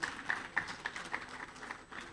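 Audience applause at a business summit on digitizing supply chains, a fairly quiet spread of scattered clapping with several sharper claps standing out across two seconds, heard from a distance in a large room.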